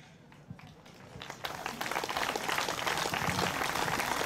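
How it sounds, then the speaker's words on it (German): An audience breaks into applause at a public speech, the clapping building from a thin patter into a dense, sustained roar that fills the space. "Applaus"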